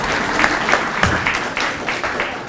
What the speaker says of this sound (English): I'm glad that you're clapping.